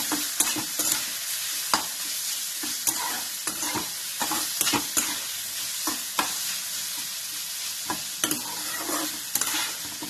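Aloo poha vada mixture of potato and flattened rice sautéing in a hot pan: continuous sizzling and frying with repeated sharp scrapes and knocks of a spoon stirring, close and steady throughout.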